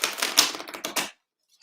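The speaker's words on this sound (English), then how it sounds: "I will give it a proper shuffle" Lenormand cards riffled in a quick shuffle: a rapid run of dry, crisp clicks and flutters for about a second, then silence.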